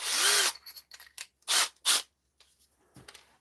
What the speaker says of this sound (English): Put my 1/2 inch Forstner back in